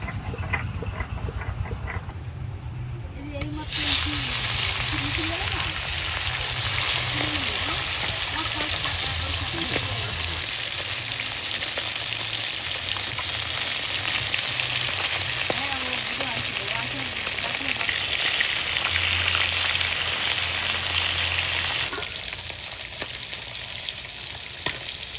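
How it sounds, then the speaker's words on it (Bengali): Fish rubbed with turmeric and salt sizzles in hot oil in a wok in a home kitchen, a loud, steady frying hiss that starts abruptly and holds for about eighteen seconds before cutting off. "তো মাছগুলো ভেজে নেওয়ার জন্য এখন কড়াইতে তেল দিয়ে দেবো।"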